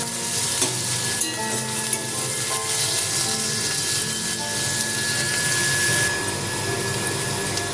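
Three or four crushed garlic cloves fry loudly with potatoes, onion and water spinach in a hot pan, a dense continuous sizzle with occasional stirring scrapes, close and with no talking.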